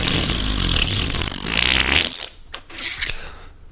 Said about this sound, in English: He just had to fart.